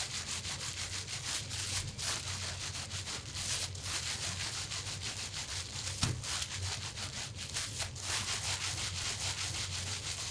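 Wet felt for an octopus piece is rolled and rubbed inside plastic, giving a continuous close-up rasping, swishing friction with rhythmic back-and-forth strokes and no voices.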